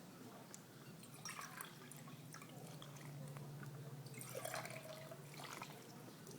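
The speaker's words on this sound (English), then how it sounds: "put about 2 cups of water." About two cups of water poured into a homemade protein bar mixture, a soft trickling and splashing that swells midway, quiet and close.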